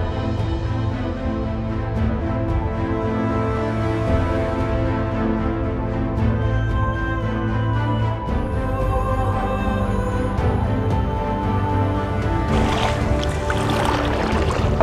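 A large wooden boat being rowed on the Brahmaputra near a river char, with steady water sloshing and a continuous low hum throughout, brighter splashing and hiss rising toward the end.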